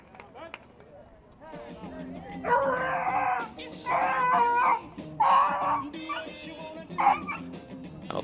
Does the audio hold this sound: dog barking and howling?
yes